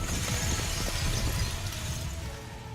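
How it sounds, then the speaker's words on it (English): Dense crackling and splintering noise of a massive object's material cleaving apart in Goddess of Victory: Nikke fills the clip steadily at a fairly loud level. "Accompanied by the sound of material crackling and cleaving."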